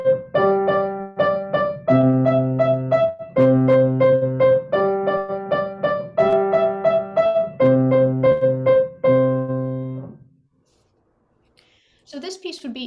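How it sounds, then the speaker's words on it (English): A simple piano piece from a 19th-century piano method, with clear repeated chords and a plain melody moving up and down for about ten seconds before the notes ring out into silence and a voice starts briefly at the end. "since it's from an obscure 19th century piano method, and it sounds like this."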